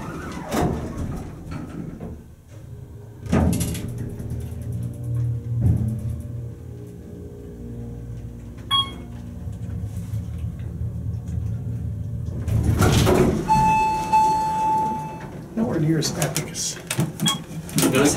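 Otis hydraulic elevator at an Extended Stay America hotel in Plano, Texas: low motor rumble and hum while the car runs, with door sliding and mechanical clunks near the start and end, plus a brief chime.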